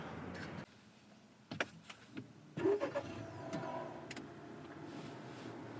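Clicks and a soft chime inside a 2022 Acura TLX A-Spec SH-AWD at push-button start, then the engine starts and settles into a quiet, smooth idle.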